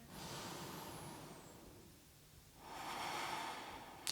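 Breathing during a yoga and Pilates sun salutation session, a faint airy exhale fading out, a pause, then a longer soft breath rising again, close and quiet.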